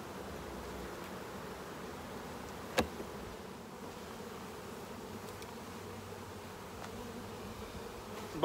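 Honeybees hum steadily around an opened hive while the inner cover is lifted, a soft continuous drone up close with a single sharp click partway through.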